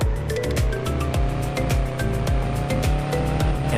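A car drives and brakes in the Garage Car Simulator 2 video game, producing a loud, continuous engine drone with evenly repeating pulses throughout, and nobody speaks.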